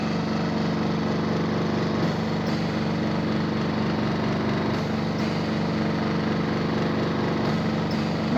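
An oxygen concentrator machine runs with a steady, loud mechanical hum and whir, a constant motor drone that holds level throughout with faint periodic pulses.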